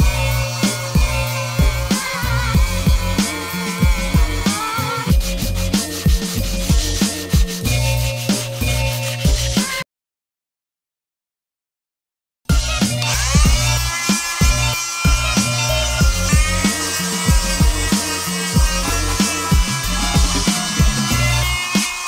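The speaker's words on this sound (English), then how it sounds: "I'm going to sand this down, get them smooth, because they're kind of rough from the sand casting." Rough sand-cast wheels being sanded smooth with a power sander, a loud continuous abrasive whir and rub close by that runs for about ten seconds, drops to silence, then resumes.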